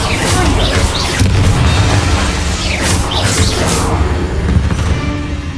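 A Confringo spell explosion in the video game Hogwarts Legacy comes as a loud, rumbling boom within a dense, continuous roar of game effects and background music, with no clear separate bursts.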